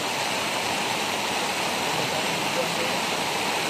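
Floodwater from heavy rain rushes in a steady, loud, unbroken roar that fills the whole stretch with no pauses.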